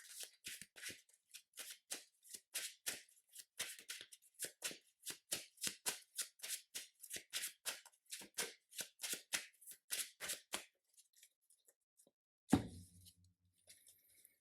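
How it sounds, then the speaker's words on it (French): Cards handled during a Marvel Champions card game: a long run of quick, crisp card flicks and snaps in a steady rhythm, close and fairly faint, ending with a single heavier slap on the table. "Donc je pioche une carte, donc je dois faire ça"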